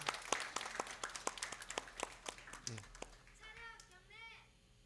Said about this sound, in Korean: 우리 격려의 박수 우리 힘차게 해줍니다.